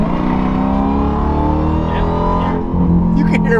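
A 2023 Dodge Durango Hellcat with its muffler deleted pulls hard, the supercharger whine rising in pitch over a loud, raspy engine roar heard from inside the cabin with the windows down.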